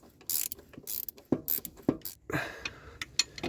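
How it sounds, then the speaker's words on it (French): Ratchet wrench clicking in short bursts while loosening exhaust bolts from beneath a camper van, faint and close, with scattered metallic knocks and pauses between strokes. "Je suis en train de desserrer du coup l'échappement."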